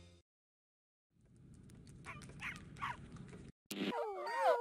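Dalmatian puppies in a 101 Dalmatians animated storybook game, a rumble of many small paws followed by short yips and whimpers, then high squealing puppy cries close up.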